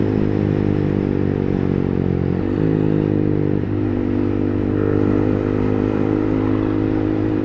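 A Yamaha MT15 motorcycle (2024, remapped) pulls hard in fourth gear, its engine droning loud and steady with a dense low rumble and a brief shift in pitch partway through, heard close and continuous with no talk.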